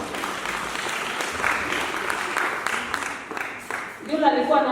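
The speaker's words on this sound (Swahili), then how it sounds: "Tumpige makofi akikuja." A church audience claps for an arriving preacher, a dense wash of applause lasting several seconds before thinning, with voices mixed in underneath.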